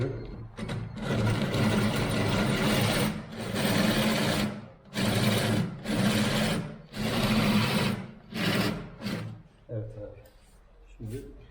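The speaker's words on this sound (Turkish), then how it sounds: "Bakın arkadaşlar şimdi deliyor." A machine drilling a hole runs in repeated bursts of whirring and grinding, stopping and starting several times, with people talking nearby.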